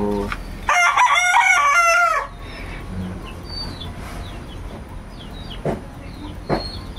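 A rooster crows loudly and nearby in one long call lasting about a second and a half, followed by quieter outdoor ambience with faint bird chirps and a couple of brief knocks.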